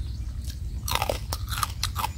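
Crisp, crunchy bites and chewing of pounded santol salad with crispy fish and dried shrimp, a run of close, sharp crunches over a low outdoor rumble.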